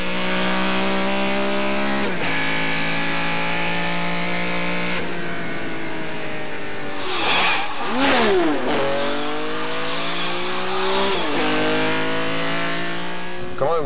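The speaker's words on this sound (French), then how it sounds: "J'ai refait le parcours avec une Ferrari pour changer le son." A Ferrari's engine revs hard while driving, climbing in pitch through each gear and dropping sharply at every shift, loud and close throughout with no talk.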